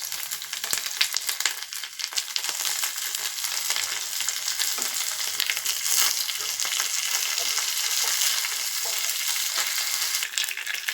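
Dried Byadgi chili, chopped green chilies, mustard seeds and curry leaves sizzle and crackle in hot oil in a steady, loud frying hiss, with occasional sharp pops and stirring.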